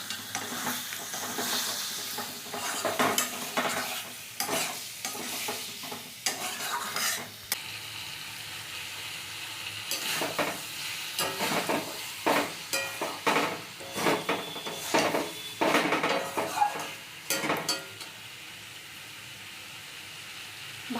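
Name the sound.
stir-frying chicken mince curry with carrot, beetroot, potato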